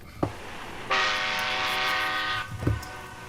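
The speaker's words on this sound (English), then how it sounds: "There's that train." A train horn sounds a long, loud, sustained blast, framed by heavy rumbling thuds of the passing train before and after.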